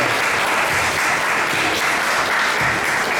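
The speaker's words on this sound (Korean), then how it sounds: "큰 박수로 맞아주시기 바랍니다." Audience applause welcoming a speaker at a talk on Korean schools in Japan, loud, dense and sustained clapping from a crowd that holds steady throughout with no talking over it.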